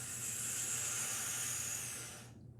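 A long, airy hiss of a deep inhale through the nose or mouth during a breathing exercise, close and soft, holding steady before cutting off near the end.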